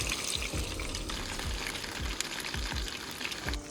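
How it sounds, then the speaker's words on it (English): Fries sizzling and bubbling in hot oil outdoors, a steady close frying hiss with rhythmic low bubbling pulses and no talking. "Time to drop the fries in here. Hopefully the oil is ready."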